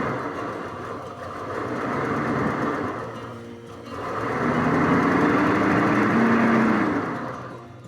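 The engine of a long-forgotten Ford Thunderbird idles with a steady drone that dips briefly, then rises and wavers as the revs climb slightly.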